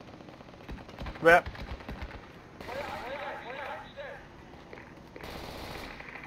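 Gunfire in a tactical shooter video game, a loud sharp burst of shots early on followed by more distant crackling fire, with players talking over it.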